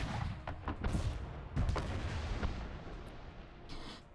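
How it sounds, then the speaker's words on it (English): Cannon fire booms against a high cliff in Anno 1800, several heavy blasts in quick succession followed by a rumbling tail as the rock gives way. "The cannon fire has precisely the desired effect."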